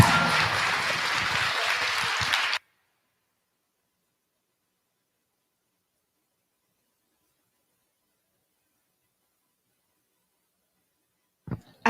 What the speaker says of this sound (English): was gonna ask for a round of applause, but my work has been done for me